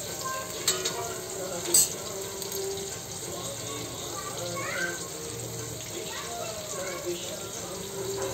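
Prawns fry gently in a pan over a low gas flame, a soft steady sizzle with occasional clinks and light scraping as they are turned, under quiet background voices.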